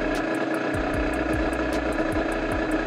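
Engine idling steadily just after starting, following a repair of an air leak at the cylinder, with a loud continuous hum and a regular low pulsing beat, close up.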